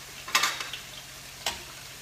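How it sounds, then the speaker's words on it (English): Eggplant frying in a pan, a steady close sizzle with a couple of brief sharp spatters or stirring clicks. "So here I'm frying eggplant as well"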